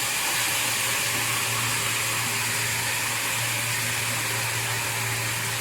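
Ground spice paste with a little turmeric fries in hot oil for a fish curry, giving a steady, dense sizzle that stays loud and even throughout, with no talking.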